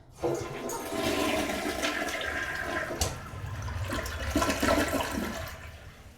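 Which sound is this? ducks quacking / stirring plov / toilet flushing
toilet flushing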